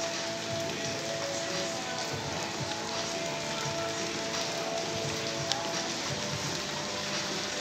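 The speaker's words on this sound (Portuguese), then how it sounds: "Uma chuva bem fininha, mas está chovendo, está bem encharcadinho." Light, fine rain falls on a quiet village street on a Sunday evening, a steady, soft, even hiss of drops on wet ground that continues without a break and with no voices.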